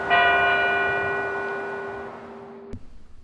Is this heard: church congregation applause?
no